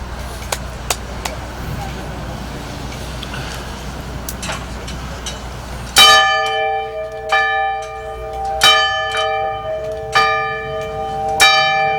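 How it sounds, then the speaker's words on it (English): A bell rung in honor of veterans at a 2022 Veterans Day ceremony in Lincoln Park rings out about five loud, evenly spaced strikes with long ringing tones. Before it starts there is a steady outdoor background with a few faint knocks. "I'd like to ring the bell"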